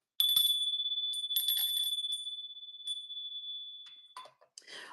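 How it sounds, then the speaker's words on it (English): A bright, high bell rings, holding a long sustained tone for about four seconds before fading, with scattered rustling and shuffling noises around it and more handling sounds as it ends. "Here comes the bell, you guys."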